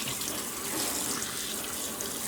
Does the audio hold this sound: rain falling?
no